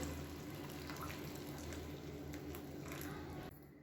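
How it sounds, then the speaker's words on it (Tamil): Hot water poured into a cooker of rice and lentils gives a steady, fairly loud watery rush that runs without a break for nearly four seconds and then drops in level just before the end. "அந்த தண்ணியை சேர்த்துக்கலாம்"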